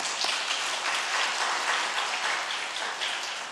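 A church congregation applauds during an afternoon worship service to welcome the choir conductor, with dense, steady clapping that fills the room from start to finish.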